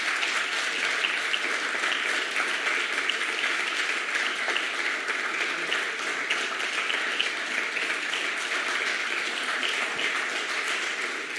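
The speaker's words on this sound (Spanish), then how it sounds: "Aplausos, música." Steady audience applause fills a conference hall after a panel discussion remark, a dense, even wash of many hands clapping at moderate distance, sustained without pause and with no talking over it.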